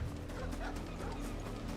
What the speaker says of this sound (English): That's just a dog.